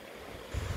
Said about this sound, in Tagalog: And then ito yung tubig. Yung sapa, ilog, ganon.